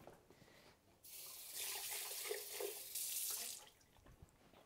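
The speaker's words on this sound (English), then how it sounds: "Let's just like give this a quick rinse" Tap water runs into a sink to rinse slushy wine cubes, a soft, steady hiss that starts abruptly, holds for a few seconds at low level and stops.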